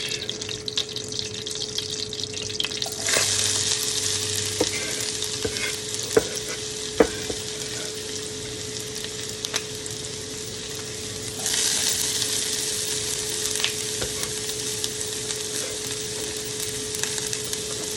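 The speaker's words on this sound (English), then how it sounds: "as you can see, the butter's getting nice and brown" Butter browns in a pan for a French-style shepherd's pie, a continuous sizzling hiss that swells louder at times, with occasional sharp knocks and clinks of utensils nearby.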